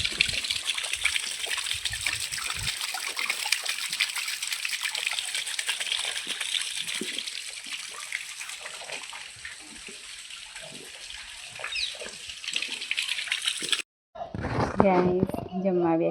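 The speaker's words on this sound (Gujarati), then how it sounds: "પાણી ચાલુ કરી દીધું છે" A kitchen water tap runs in a steady, moderately loud stream of splashing water for most of the stretch, then cuts off abruptly, followed by a brief voice.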